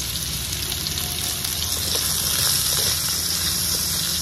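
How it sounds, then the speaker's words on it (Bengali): Potatoes fry in oil in a kadai blackened from boiling water, giving a steady, moderate sizzle and hiss that holds evenly throughout, with no talking. "আলুগুলো লাল লাল করে ভেজে নিয়েছি"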